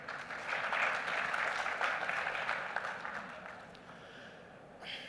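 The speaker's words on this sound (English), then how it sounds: "I think that deserves a huge round of applause" Audience applause at the India Maritime Week 2025 conference, a sustained wash of clapping from a crowd that swells, holds, then gradually fades toward the end.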